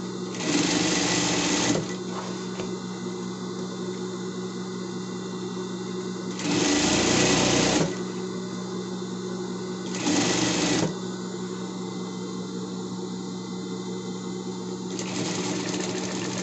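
A sewing machine stitches the zippered side of a fabric pet bed in three bursts of steady, fast whirring, separated by quieter pauses with faint background hum.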